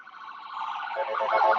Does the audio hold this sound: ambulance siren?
yes